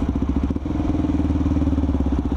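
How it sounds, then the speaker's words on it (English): A motorcycle engine idles in neutral with a steady, throbbing low putter. The pulsing is close and even, with a brief dip in the rhythm about halfway through. "Sometimes the bike's hard to get into a neutral."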